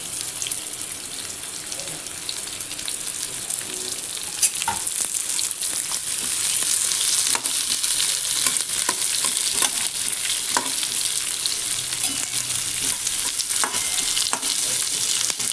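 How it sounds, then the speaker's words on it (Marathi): Chopped onion sizzling steadily in a spoonful of hot oil in a kadhai, the first step of a home egg curry, with occasional stirring scrapes and soft clinks over a constant frying hiss. "आणि हा कांदा टाकू त्याच्यात कांदा आधी थोडासा भाजून घेऊ"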